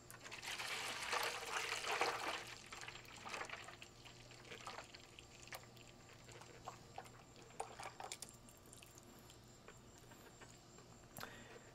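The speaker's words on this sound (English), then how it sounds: "we get our mixture and we simply pour it in" A watery mixture is poured into a mold for a tall glowing graveyard obelisk prop, a faint splashing trickle that is strongest near the start and then settles into soft, scattered patter and drips.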